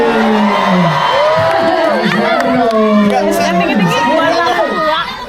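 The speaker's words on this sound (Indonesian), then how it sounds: "tepuk tangan untuk Aurora dan Kisha" Audience cheering and whooping for two performers at an Indonesian stage event, a loud crowd of voices and calls sustained throughout with speech mixed in.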